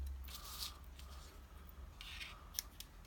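A few crisp scissor snips cutting through material, short sharp bursts separated by quiet pauses, close up and with no talking.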